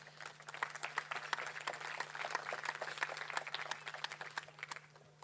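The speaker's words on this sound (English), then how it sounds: "give yourselves a round of applause" Applause from a crowd of players and parents at a football club's season presentation evening, a steady patter of many hands clapping for about five seconds, moderately loud with a constant low hum underneath.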